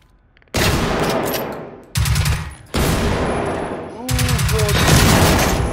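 Shotgun blasts in the video game Generation Zero, three loud booming shots in close succession, each trailing into a long noisy echo, with a voice briefly calling out near the end.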